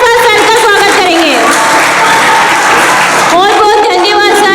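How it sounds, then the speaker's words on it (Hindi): Loud, close applause from a crowd welcoming a guest at a child-labour awareness program, dense clapping sustained throughout with a speaker's voice heard over it at the start and end. "सभी जोरदार तालियों के साथ सर का स्वागत करेंगे।"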